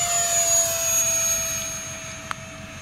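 An E-flite Habu SS 70mm electric ducted-fan model jet flying overhead, a steady high whine with a rushing roar that fades gradually, at moderate distance outdoors.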